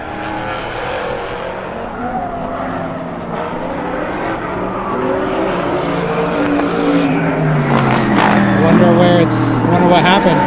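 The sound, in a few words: Dussault Corvette race car driving away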